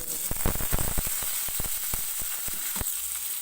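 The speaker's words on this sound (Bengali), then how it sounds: "এগুলো ভাজা হয়ে গেলে এবার আমি আলুগুলো দিয়ে দেবো" Hot oil sizzles steadily in a pan with a pinch of asafoetida, broken by quick crackling pops, ahead of potatoes being added for frying.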